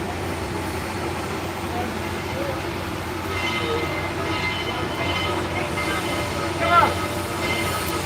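A Southern Railway locomotive rumbles steadily as it backs up to couple a caboose at a railroad museum, with a brief metallic wheel squeal near the end and distant voices.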